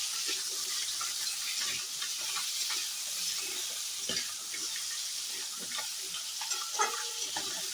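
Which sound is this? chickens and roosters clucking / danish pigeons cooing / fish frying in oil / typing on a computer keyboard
fish frying in oil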